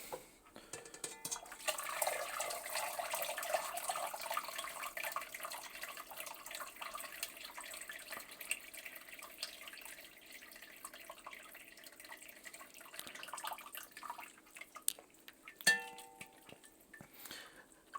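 Turkey stock drains and trickles from a lifted colander into a pot, a steady splashing pour that thins to drips, with a faint clink of cookware near the end.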